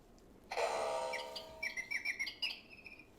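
Several birds chirp and whistle outdoors, a burst of bright overlapping calls followed by a string of short, sharp tweets, fairly close and clear with no talking.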